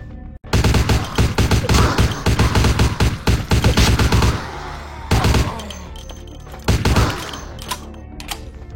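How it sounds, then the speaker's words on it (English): Rapid automatic gunfire from a machine gun in a video game, loud and close, with long dense bursts that break off and then return in shorter volleys. "This machine gun's actually pretty good."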